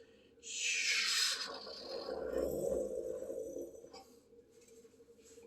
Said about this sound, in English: That's the sound of the planes flying over.